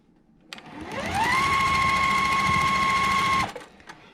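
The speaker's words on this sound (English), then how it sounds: "we're going to go to the side that's the same length, and we're going to stitch that on" A sewing machine stitches along the edge of a fabric piece, spinning up quickly into a loud, steady mechanical whir that holds for about three seconds before stopping abruptly, close and alone.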